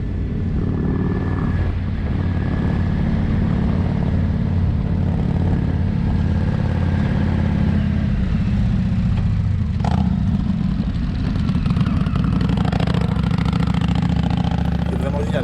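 Engine and exhaust of an Indian motorcycle while riding, a steady, deep, loud rumble that holds throughout with slight surges, and speech over it at times.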